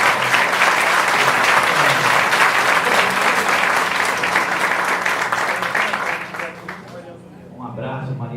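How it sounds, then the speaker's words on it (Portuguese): Audience applause at a public health debate, honouring a doctor's parents present in the room, a loud sustained burst of many hands that fades near the end as a voice begins speaking. "uma salva de palmas"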